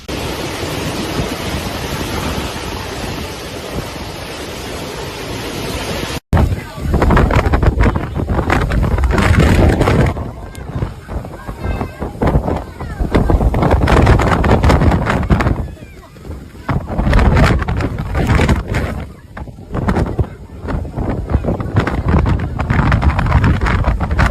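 Strong storm wind in a Chinese city roars and buffets the microphone continuously, with gusts rising and falling in a dense, loud rush of noise.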